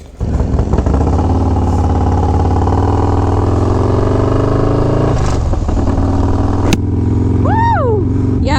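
A 151-horsepower Harley-Davidson motorcycle engine revs loudly and close by, its deep rumble rising and falling, followed by a sharp clack and a brief excited shout from a rider near the end.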